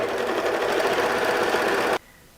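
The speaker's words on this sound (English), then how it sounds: "we'll see how quick and easy finishing off woven seams is on an overlocker" An overlocker races along a woven cotton shirt seam, a loud steady high-speed whirring drone that holds for about two seconds and then cuts off abruptly, leaving quiet.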